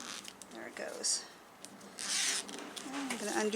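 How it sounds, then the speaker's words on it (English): A zipper is pulled open along a sewn in-the-hoop 3D flower zipper pouch, giving several short scratchy bursts with a soft rustle between them. "And I'm going to undo my zipper all the way."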